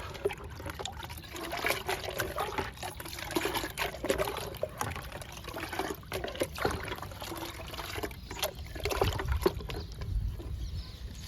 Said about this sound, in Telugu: కలుపుదాము టీ పౌడర్ని, వాటర్ని.